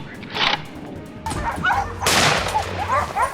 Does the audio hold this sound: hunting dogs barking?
yes